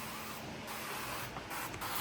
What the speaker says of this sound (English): avocado oil spray that we were talking about earlier. I'm also gonna apply it to the pan as well.